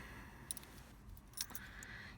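Keys of a Lotus Evora S Sports Racer jangling softly: a few faint metallic clinks and rattles over a quiet background, with no talk.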